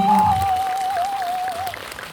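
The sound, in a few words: audience applause welcoming director Wang Min-cheol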